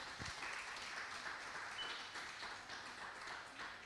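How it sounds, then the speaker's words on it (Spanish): Congregation in a church applauds after a bilingual sermon, a faint but steady wash of clapping that holds evenly for about four seconds. "Give a hand to the Lord."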